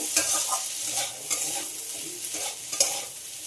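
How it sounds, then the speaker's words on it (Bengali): Curry leaves and puffed rice fry in a pan, giving a bright, steady sizzle with repeated scraping stirs and occasional crackles, close and clear with no talking. "আবারও ভেজে নেব।"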